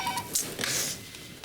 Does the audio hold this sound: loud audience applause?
no